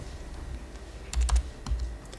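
Keys struck on a computer keyboard, a short loud burst of several quick clacks in two clusters, close and with no talking.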